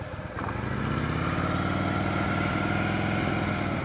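A motorcycle creeps along at slow speed during low-speed riding practice, its engine a steady, close, throbbing putter that holds nearly even throughout with a slight lift early on.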